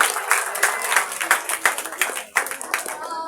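Loud applause and clapping from an audience at a children's 14 August Pakistan Independence Day program, a burst of many hands filling the whole stretch with scattered sharp claps.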